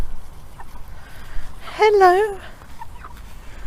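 Plump meat chickens give a short burst of warbling clucks close by, with someone speaking softly to them just before.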